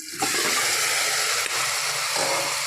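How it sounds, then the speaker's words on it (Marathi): Mutton tossed into sautéed tomatoes in a hot pan, giving a loud, steady broadband sizzle that holds without letup from start to finish, close up and with no voices. "टमाटर चांगलं परतून झाला त्याच्यामध्ये मी मटण टाकणार आहे"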